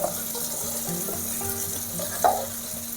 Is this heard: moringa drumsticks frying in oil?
yes